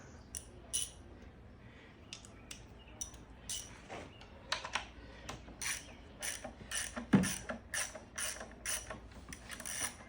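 A quarter-inch Pittsburgh Tools ratchet from Harbor Freight clicks in short irregular bursts of pawl ticks while plenum bolts are worked on a Dodge Grand Caravan engine, close and fairly quiet with light mechanical clatter between.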